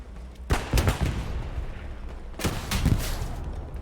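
Machine gun fire in the World War II shooter Hell Let Loose comes as two short, punchy bursts about two seconds apart, sharp reports over low rumbling battlefield ambience.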